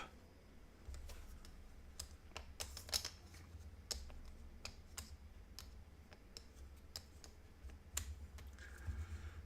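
Small game tiles from the Gorinto abstract puzzle board game being shuffled on a table, a steady run of light clicks and clacks with a low rumble beneath, no talking.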